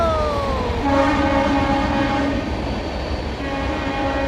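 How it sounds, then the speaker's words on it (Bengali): A train rolls past a station platform, its loud sustained horn sounding over the continuous rumble of the cars. "এ ট্রেন চলে গেল।"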